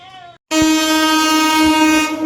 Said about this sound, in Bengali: Saraighat express, Kanyakumari Saraighat express.